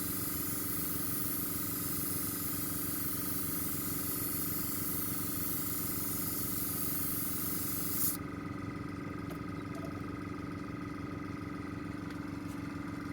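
An Iwata airbrush sprays gloss enamel paint in a continuous, even hiss at close range, mixed with a compressor's hum, then the airflow stops abruptly.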